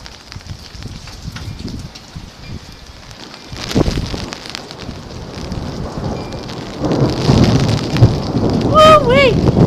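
A severe thunderstorm pours heavy rain, with a deep thunder rumble near the midpoint. The downpour grows louder toward the end, and a few bird chirps cut through at the close.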